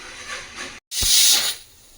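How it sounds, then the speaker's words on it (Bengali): A pressure cooker cooking dal vents steam in a loud half-second hiss, right after a brief silent gap and fading back to a low background murmur. "কুকারের ঢাকনা বন্ধ করে দিয়েছি, আমি দুটো সিটি অবধি অপেক্ষা করব।"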